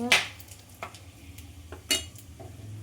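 Cloves and other whole spices tempered in hot oil, a low steady sizzle under a few sharp metallic taps of a spoon on the pan, close by.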